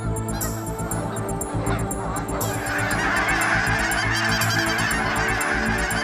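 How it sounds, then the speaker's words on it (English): A large flock of giant Canada geese honks continuously, many overlapping calls layered close and far in a dense, noisy chorus that swells slightly toward the end. "hunts the largest flock of giant Canada geese in the world"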